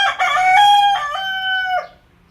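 A rooster crows loudly up close, one long harmonic cock-a-doodle-doo rising and holding before breaking off, then quiet.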